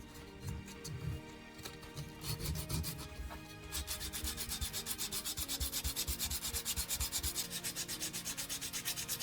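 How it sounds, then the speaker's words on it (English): Sandpaper rubs hard against the oxidized metal contacts of an old cordless drill battery, first in uneven scrapes, then in fast, regular back-and-forth strokes that are close and fairly loud. "The sandpaper turns dark with black residue, a sign that oxidation and dirt are coming off"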